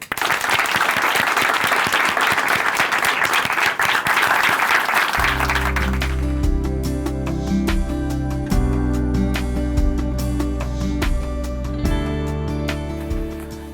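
A church audience claps warmly to welcome a speaker at a Chuncheon church, dense applause lasting about five seconds before swelling music takes over and continues loudly to the end.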